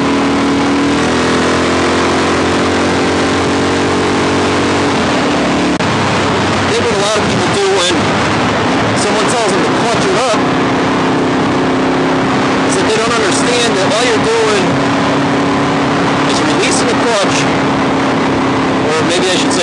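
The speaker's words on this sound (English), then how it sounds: "So the motor gets into its power range and dump the clutch" A supermoto motorcycle engine revs up into its power range for a wheelie, a steady mid-pitched drone climbing in bursts, mixed with strong speech-like overlap throughout.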